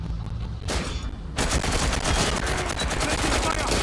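Rapid bursts of automatic gunfire from a firefight in the video game Watch Dogs Legion, with a quieter stretch before dense, loud, continuous shots take over, and voices faintly under the din.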